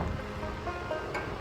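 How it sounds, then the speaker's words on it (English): Ocean waves at Port Canaveral, Florida, on the east coast near sunset: a steady, broad wash of surf and wind that stays at an even level throughout. "We're at the ocean."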